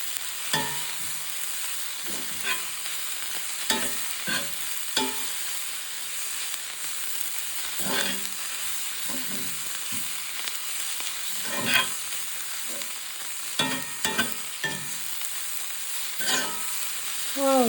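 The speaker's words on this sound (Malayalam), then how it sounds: "നമ്മളിനി ഇളക്കി കൊടുക്കുക കേട്ടോ" Red amaranth (cheera) thoran with grated coconut frying in a pan, a steady close sizzle with repeated scraping and clinking of a spoon as it is stirred, no voices.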